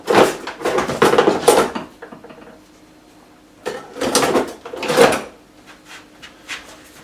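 Screwdriver used as a makeshift chisel on an RSG disc, giving bursts of scraping, knocking strikes in two clusters separated by a quieter pause, close and fairly loud without talk.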